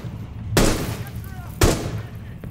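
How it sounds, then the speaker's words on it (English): Two loud, close gunshots from Rainbow Six Siege crack out about a second apart, each with a short booming decay, over low background hum. "They're shooting here."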